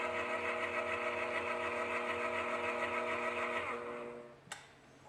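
A milling machine's table power feed runs with a steady whining motor hum for about four seconds, then winds down and stops with a single sharp click, close by.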